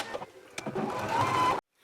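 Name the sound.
sewing machine stitching waistband side seams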